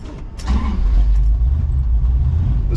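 Deep, loud rumble of a 1970 Plymouth Cuda with a 440 engine on a test drive, with a brief rise near the start and then a steady low throb.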